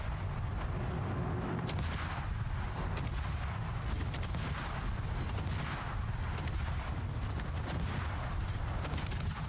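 Heavy booming salvos from ship main guns in World of Warships, with repeated deep blasts over a constant low rumble of engine and sea, loud and dense, no talking.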